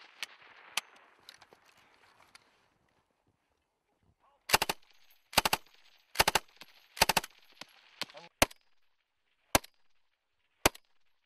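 A machine gun laying down suppressing fire during a live fire training exercise with US Marines and Australian soldiers: several sharp, loud, close bursts followed by scattered single shots, after a quieter start with faint activity.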